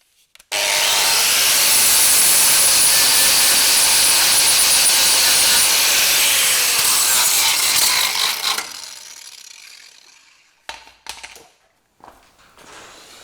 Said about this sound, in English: So I need to get a flat disc on there, get all this cleaned up